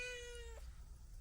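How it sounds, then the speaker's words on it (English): A cat gives one clear, drawn-out meow at close range, then falls quiet over a low background rumble. The cat is hiding up in the eaves. "Looking after my parents' cat at the moment."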